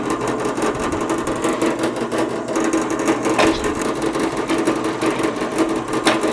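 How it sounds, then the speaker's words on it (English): A drill bores holes in wood with a roughly quarter-inch bit, a continuous whirring grind with scratchy texture throughout, steady and close, with no one speaking. "We need to drill each of those out."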